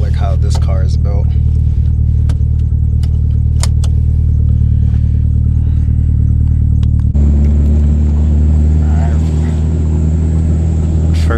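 Mitsubishi Evo with a manual gearbox driving on the road, a steady loud low engine drone and road rumble heard from inside the cabin, shifting in tone partway through, with faint rattles and clicks over it.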